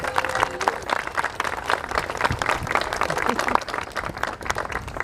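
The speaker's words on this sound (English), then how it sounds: "Give Billy Stevenson a round of applause." An audience gives a round of applause for Billy Stevenson at a Mr. Jamestown event, irregular clapping of moderate loudness filling the whole stretch with crowd murmur mixed in.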